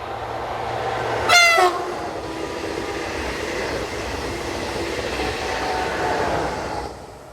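A southbound TGV set working the Metz to Nice service sounds one short, loud horn blast, then rushes past in a sustained, fairly close rumble that fades slightly at the end.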